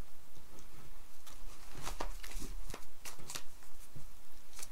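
Tarot cards being shuffled close up, a series of quick papery riffles and soft flicks in irregular bursts.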